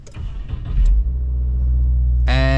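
Push-button start of a 2022 Subaru: a few clicks and faint cabin sounds, then the engine fires and settles into a loud, steady low idle rumble, with a bright chime or tone near the end.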